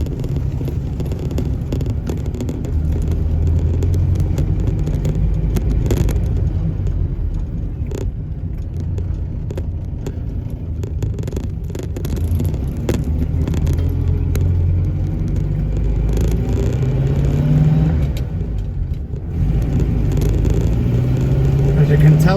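A 1953 Morris MM car on a test drive, a steady low engine rumble and road noise throughout with occasional rattles and bumps, heard from inside the car, with a voice speaking intermittently over it.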